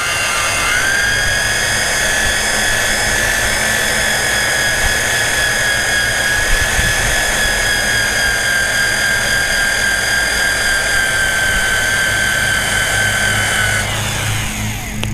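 A drill spinning a 3M eraser wheel against a Chevy Tahoe's paint to strip pinstripes gives a loud, continuous high whine with a grinding rumble, holding steady for the whole stretch before easing off near the end.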